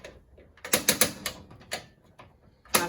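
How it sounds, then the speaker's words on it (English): Propane pilot igniter on the oven of a 2021 Keystone Hideout 29DFS RV snaps out a string of sharp, close mechanical clicks, some in quick pairs, with brief quiet gaps between them. "Turn it over to the pilot option for the oven, push and hold, hit that igniter."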